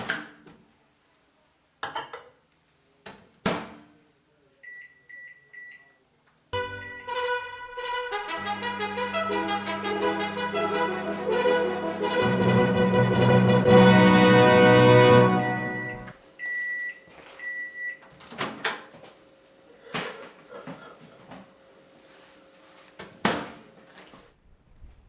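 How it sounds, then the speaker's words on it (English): A chocolate mug cake cooks in a microwave oven on medium: a few door clicks and beeps, then a steady loud hum from the running oven, followed by finishing beeps and light clatter. "we're going to pop it in the microwave for 60 seconds on medium setting"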